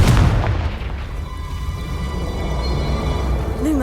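A Confringo spell in Hogwarts Legacy sets off a loud booming blast that opens sharply and rolls into a sustained rumbling roar, ending with a brief rising magical whoosh.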